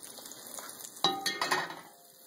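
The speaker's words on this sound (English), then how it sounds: "That sizzling foam is what we're looking for." Butter foaming and sizzling in a hot pan for a garlic mushroom chicken dish, a soft steady crackle under a few clinks of metal against the pan.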